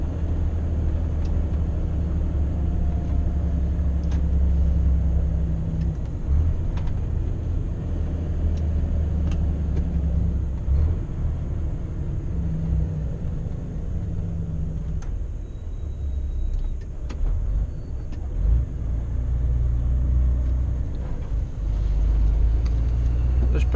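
A loaded or empty truck's diesel engine drones steadily in high gear on the road from Middelburg to Botlek, a continuous low rumble with road noise throughout and no talk.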